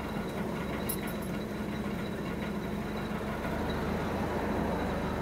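A Ford Pinto station wagon engine idles steadily, a low even hum with faint mechanical ticking, close and unchanging throughout, without speech.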